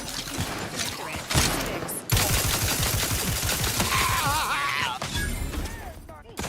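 Gunfire from a weapon in The Outer Worlds 2, a rapid string of loud shots rattling through a busy game mix for several seconds, with other effects layered on top.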